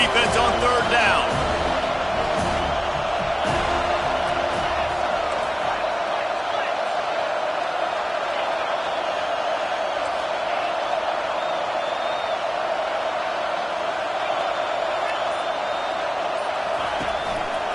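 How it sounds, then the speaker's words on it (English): A stadium crowd at an NCAA football game roars steadily on a third-down defensive stand, a dense, continuous wash of cheering heard under a commentator's voice. "Decibels rising as the crowd gets behind this defense on 3rd down."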